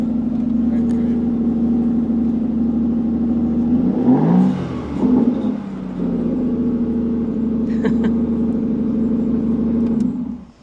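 Ariel Atom Mk4 sports car engine at Brooklands Test Hill, a loud steady drone that swells into a rising, sweeping rev midway, then settles back to a sustained hum.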